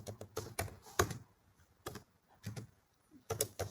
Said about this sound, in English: I'm just gonna type it down here.